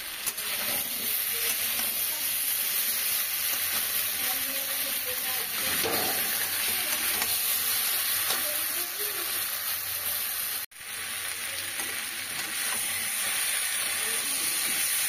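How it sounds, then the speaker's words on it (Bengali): Prawns going into a pumpkin and potato curry in a hot pan, a steady loud sizzle and hiss of frying that continues almost unbroken, with faint stirring sounds underneath and one brief cut. "এখানে ওপর থেকে চিংড়িগুলো দিয়ে দিচ্ছি, চিংড়িগুলো দিয়ে একটু নেড়ে নেব।"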